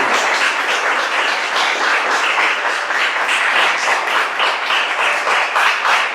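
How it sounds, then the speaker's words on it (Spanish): A church congregation applauds, dense continuous clapping from many hands filling the room at a steady loud level, with no clear speech over it. "Denle un fuerte aplauso a nuestro Rey, al Rey de Reyes, y Señor de Señor."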